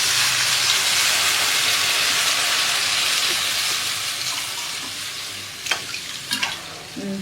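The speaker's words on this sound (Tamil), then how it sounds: "இப்போ தண்ணி தேவையான அளவுக்கு ஊற்றிக்கணுமா?" Water pours into a hot pot of egg curry with a loud, steady sizzling hiss that gradually quiets, followed by a few clinks of a utensil.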